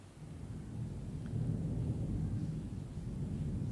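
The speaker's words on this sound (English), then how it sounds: "Unusual thunder lasting such a long time." Long, deep thunder rolls on steadily, a low sustained rumble that swells slightly and continues without a break, with no voices.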